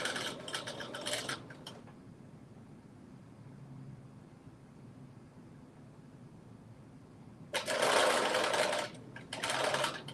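Domestic sewing machine stitching garment pieces back together in two loud, steady whirring bursts at the start and end, separated by a long quiet pause with no talking.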